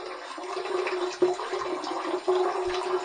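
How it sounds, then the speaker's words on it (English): Hot tap water runs steadily over a shaving razor in a bathroom sink, a close, continuous splashing stream with a few brief surges. "we're going to heat this razor up under some hot, hot water now"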